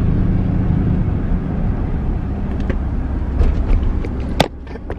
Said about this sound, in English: just gonna do it here in the truck driving home